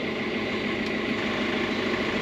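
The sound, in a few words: sailboat starboard engine running in forward gear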